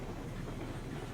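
A train rolls along in the video game Railroads Online, giving a faint, steady low rumble with a soft continuous rolling texture and no distinct clacks.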